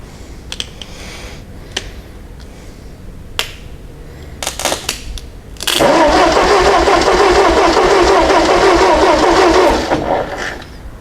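A Ford 8N tractor with a fault pushing antifreeze up past a bolt cranks over loudly after a few scattered clicks and knocks, the starter churning steadily for about four seconds close by before dropping away.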